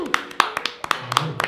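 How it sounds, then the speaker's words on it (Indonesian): A few people clap their hands in an indoor talk-show studio, giving a quick run of crisp, close claps over about a second and a half. "Tepuk tangan dulu."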